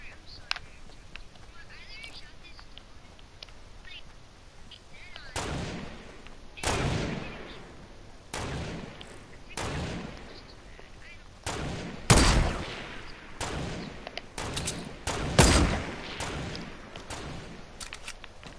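Sniper rifle shots in Fortnite, several loud, sharp single cracks spaced a second or two apart over quiet game ambience.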